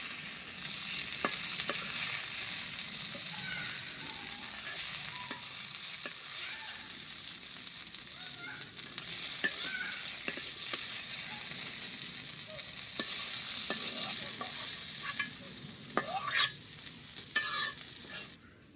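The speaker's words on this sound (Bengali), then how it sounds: "তো আমার ঢেঁড়স ভাজি হয়ে গেছে, আমি এখন নামাই নেব।" Okra stir-fries in a pan in a village kitchen, giving a continuous soft sizzle broken by repeated clicks and scrapes of a utensil stirring.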